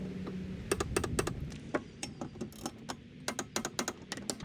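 Torque wrench tightening the blade bolts on a Toro TimeCutter zero-turn mower, a series of sharp ratcheting clicks coming in quick bursts and pauses, close and fairly loud, with no talking.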